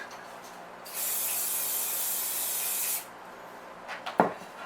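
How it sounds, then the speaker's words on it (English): Olive oil spray hisses onto an oven dish for lasagna in one steady two-second burst, close and fairly loud, followed by a few faint handling knocks. "I'm going to use a bit of olive oil spray and spray it"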